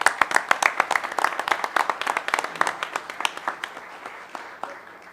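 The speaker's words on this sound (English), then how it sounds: "let's give them one more round of applause" A group claps in quick, distinct bursts at close range at a county commission meeting, the applause thinning and fading toward the end.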